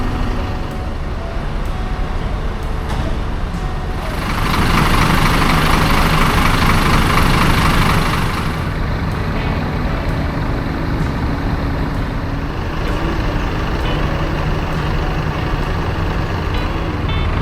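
A Tunas Muda sleeper bus pulling into a bus terminal, its heavy diesel engine idling loudly and close with a low steady rumble, swelling into a louder rush for a few seconds before settling back to idle.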